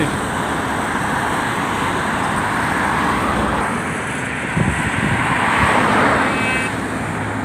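Steady roadside roar of fast vehicles rushing along the wide, empty Purbachal 300 Feet road, a continuous broadband wash with a passing vehicle swelling louder in the second half.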